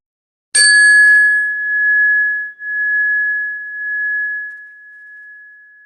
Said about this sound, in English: direct a full attention to listening to the sound of the bell